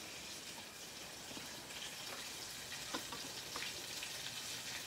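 Pakbet, an Ilocano vegetable stew, bubbling and sizzling steadily in a pot, a continuous close-up simmer with faint crackles and no talking.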